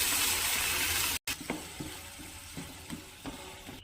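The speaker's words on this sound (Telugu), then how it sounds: "ఇందులో కాస్తని వాటర్ వేసుకోవాలండి ఉడకటానికి." Sweet potato curry spiced with chili powder hisses and sizzles loudly in a pan as water is added to cook it, broken by a brief cut and followed by light stirring clicks, with no talk.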